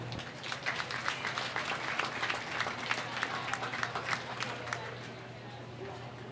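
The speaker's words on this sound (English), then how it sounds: "Let's give these exhibitors one more round of applause again." Scattered applause from the crowd at a county fair swine show, fairly faint and spread out, clapping steadily for several seconds under a low background hum before thinning at the end.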